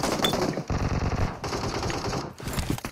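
Rapid automatic gunfire from a shooting video game, loud bursts of rattling shots in quick succession with brief pauses between volleys, no talking over it.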